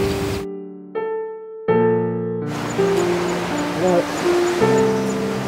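Ocean waves wash over a sea in a steady broadband rush that rises after a quiet start, heard beneath sustained tonal music.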